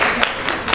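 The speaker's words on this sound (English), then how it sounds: "And a big clap for all of you." A classroom audience at a teacher-training session claps briefly in a quick burst of a few sharp, close claps.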